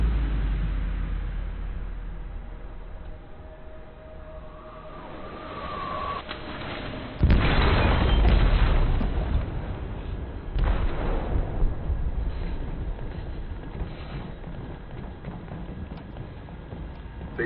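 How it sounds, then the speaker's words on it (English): A heavy explosive blast goes off in a ship's hold in Detroit: Become Human, a sudden loud boom about midway that rolls into sustained rumbling and debris noise, preceded by dim, tense ambience. "They detonated an explosive in the hold."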